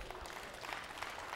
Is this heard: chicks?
no